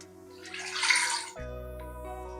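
Water from a cup poured into a kadai while cooking chicken karahi, a loud splashing rush that builds and then cuts off, leaving a steady low hum in a kitchen.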